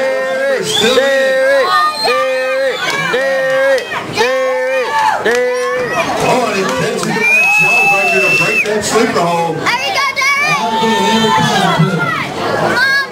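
At a wrestling event, a crowd cheers and chants Derek's name in a loud, repeated, rhythmic call, voices rising in unison over sustained noise from the crowd.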